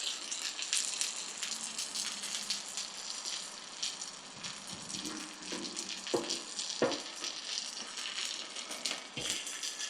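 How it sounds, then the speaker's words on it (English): Sausage and eggs frying on an outdoor ceramic-coated aluminum griddle, a steady close crackling sizzle with a few faint clinks, no talking. "everything is sizzling along."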